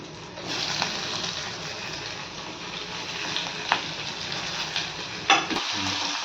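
Onions and tomatoes fry for a brinjal curry, a continuous close sizzle in the pan broken by a few clinks and scrapes of stirring.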